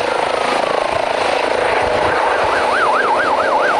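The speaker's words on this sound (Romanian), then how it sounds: "de unde a fost preluată de elicopterul SMURD" A SMURD rescue helicopter in Romania, its steady rotor and turbine drone loud and continuous throughout, with a wavering siren-like tone rising and falling near the end.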